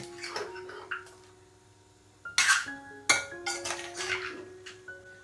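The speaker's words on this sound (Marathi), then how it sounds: "आता चिंबोऱ्यांना मसाल्यांमध्ये आपल्याला मिक्स करून घ्यायचं आहेत एकदम चांगल्या प्रकारे" A spoon scrapes and clinks against a pot while black crabs are stirred into a dark ground masala, giving irregular metallic knocks and rattles over a low background hum, with no talking.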